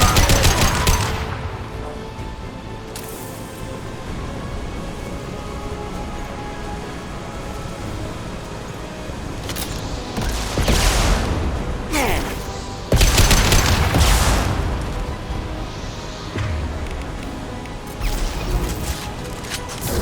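Gunfire in the Mass Effect Legendary Edition video game, loud and continuous, with clusters of shots and crashing impacts rising in intensity over a steady combat background.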